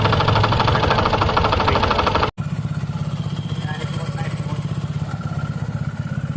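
A motorcycle engine with a damaged crankshaft idles loudly and close, with a steady knocking rattle throughout; it briefly cuts out and then resumes its uneven chugging.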